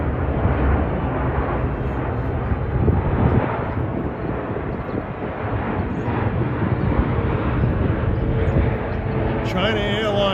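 A China Airlines jet heading for JFK roars overhead, a loud broad rumbling rush that holds steady for the whole stretch, with a voice faintly audible under the engine noise.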